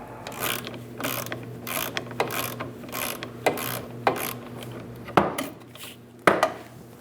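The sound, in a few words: ratchet socket removing driveshaft support bearing nuts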